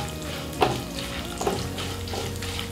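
Chana dal, mustard seeds and cumin fry in hot oil with a steady, close sizzle, and a couple of brief stirring clinks break through.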